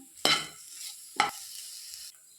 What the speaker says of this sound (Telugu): లో ఫ్లేమ్లో ఒక్క 5 నిమిషాలు ఇలా ఫ్రై చేసుకోండి